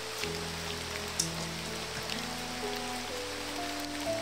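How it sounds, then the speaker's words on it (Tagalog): Heavy rain patters steadily on surfaces outdoors, a soft wash of noise that grows stronger, carried under a low, droning engine-like hum. "Palakas ng ulan, bay."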